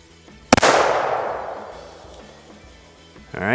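A single sharp gunshot from a Kel-Tec PMR 30 pistol firing a 30-grain Hornady .22 Magnum round at corn outdoors, a loud crack trailing into a long fading echo, with a rising whoosh at the end.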